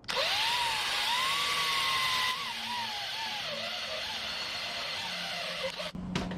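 A drill whines at close range, its pitch wavering up and down as it bites slowly into an aluminum plug on a Volkswagen air-cooled engine, then cuts off abruptly.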